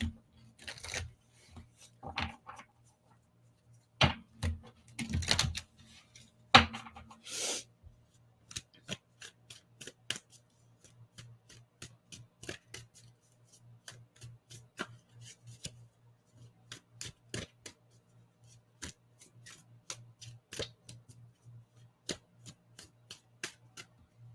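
Tarot-style cards shuffled and handled by hand, producing scattered quiet riffles, flicks and snaps in irregular bursts, close up with long gaps of near silence and no talking.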